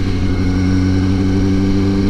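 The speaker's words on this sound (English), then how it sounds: "I still can't believe I'm riding a 600 right now" A Kawasaki ZX-6R 636 sport motorcycle being ridden drones with a loud, steady engine hum at constant pitch throughout, with no speech over it.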